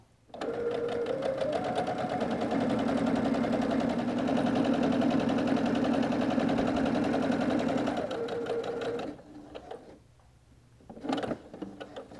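A sewing machine runs steadily for about eight seconds, top stitching an eighth of an inch around the outer edge of a mitered frame quilted napkin, then stops, leaving a brief clunk and quiet.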